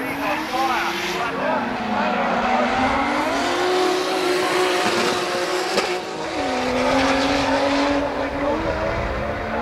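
Drift race cars slide through a corner with long, wavering tire squeals rising and falling over sustained engine roar, in two main bursts across the run, with a commentator talking over the top.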